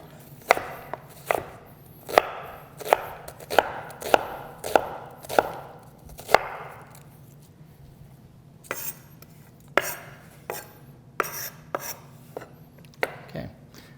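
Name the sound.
knife slicing stuffed-pepper vegetables on a cutting board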